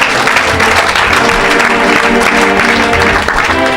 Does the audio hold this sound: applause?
yes